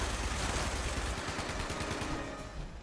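A sustained burst of rapid turret gunfire in the video game Fallout 76 rattles loudly and close for a few seconds, then tapers off.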